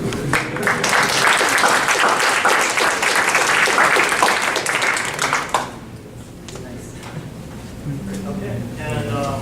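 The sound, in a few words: audience applause after a lecture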